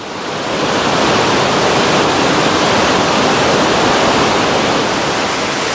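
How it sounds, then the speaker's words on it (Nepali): Namaste Waterfall cascading steadily, a loud, dense and unbroken roar of falling water up close with no voices. "नमस्ते झरना चाहिँ यस्तो छ यहाँनिर यसरी झरेर छ"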